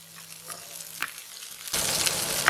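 Dried red chillies, onion and garlic fry in hot oil, starting with a faint crackle and light stirring taps before a sudden loud burst of sizzling takes over for the final second, bright and close.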